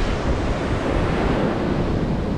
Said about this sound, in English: we're sitting right in front of the ocean